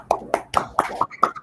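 Hands clapping in a short, sparse burst at a conference event welcoming a speaker, with several distinct claps in a loose rhythm, close and fairly loud.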